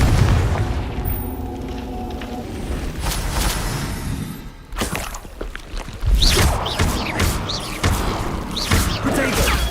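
Confringo fire spell explosions from the Hogwarts Legacy video game burst as sharp booms amid crackling magical effects, several loud blasts in quick succession, with a spoken spell incantation heard at one point.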